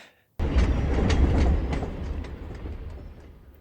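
A moving train in the 1984 film The Natural, starting abruptly after a short silence with a loud, close rumble and rhythmic clickety-clack of wheels on rails that gradually eases off.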